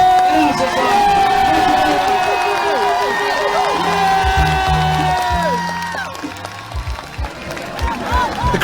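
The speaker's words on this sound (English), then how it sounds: "The crowd are still hanging around at the front of the stage here, trying to get a picture of Mr. Corbyn" A crowd cheering at a Jeremy Corbyn political rally in Birmingham, loud continuous shouts and whoops from many people that ease off toward the end, with close voices talking throughout.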